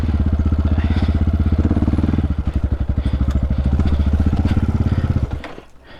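A MOTOPRO 300 motorbike engine labours uphill with the clutch slipped, giving a loud, steady, fast-pulsing putter close by for about five seconds before it cuts out and dies away.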